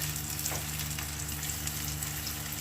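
Shrimp paste and chilies sautéing in oil for a homemade tomato sambal, a steady close sizzle with a faint hum running beneath it and no voices.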